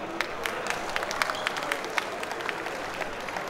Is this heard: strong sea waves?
no